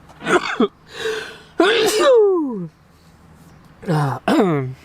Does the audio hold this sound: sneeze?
yes